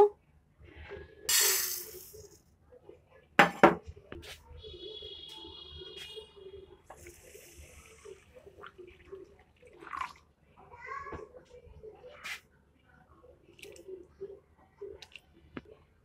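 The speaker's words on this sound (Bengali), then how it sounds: "চালটা ভালো করে ধুয়ে নেব" Gobindobhog rice washed by hand in a bowl of water, with wet swishing, splashing and scattered clicks of grains against the bowl, close and fairly loud at first, then softer irregular sloshing.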